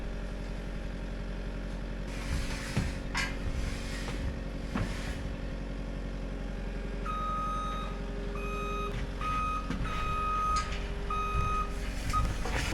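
A skid steer lifting a metal deck gives off a steady engine rumble, with a string of sharp, evenly spaced reversing beeps starting partway through and repeating close by.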